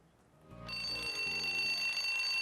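Alarm clock ringing in a North Korean TV program: a soft tonal lead-in, then a bright steady electronic ring that starts abruptly and holds loud and continuous to the end, with no talk.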